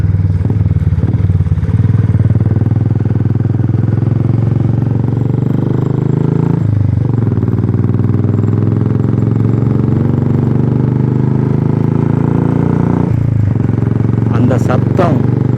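A Royal Enfield motorcycle engine thumps with a steady, loud beat while riding toward a hill station, the continuous low rumble rising and easing as the throttle changes, with a voice speaking over it.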